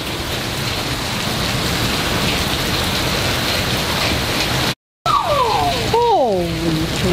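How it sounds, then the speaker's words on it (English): Heavy rain pours down hard during a severe thunderstorm, a dense steady hiss throughout, broken by a brief dropout, followed by a descending warbling tonal sweep over the downpour. "The rain? It's so dark right now, but look how hard it's coming down."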